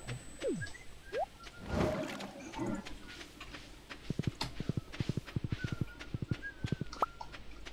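A horse trots along in the farming video game Stardew Valley, its quick, even clip-clop hoofbeats sounding close and crisp over soft game music and chimes.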